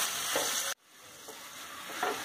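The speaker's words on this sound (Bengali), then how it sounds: "এগুলোকে খুব ভালো করে কষে নিতে হবে" Tomato, turmeric, salt, ginger paste, cumin, coriander and red chilli powder fry in a pan for Bengali rui fish curry, giving a loud, close, steady sizzle with stirring. The sound cuts off abruptly and then resumes at a similar level.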